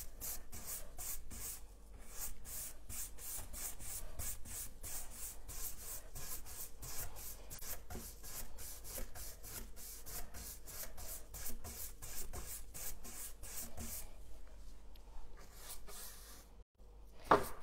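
A brush dry-brushes Tjhoko chalk paint onto furniture in fast, rhythmic rubbing strokes, close and fairly quiet, continuing steadily with a brief pause near the end.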